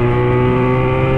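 A motorcycle engine drones loudly and steadily at close range, a thick, even rumble that holds constant through the short moment with no voices over it.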